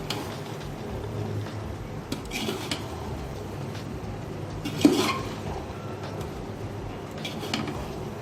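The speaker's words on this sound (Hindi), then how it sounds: "ये मैं मिक्स कर रही हूँ।" A ladle stirs biryani in a metal cooking pot, with soft scraping and occasional light clinks against the pot over a steady kitchen background, close by and fairly quiet.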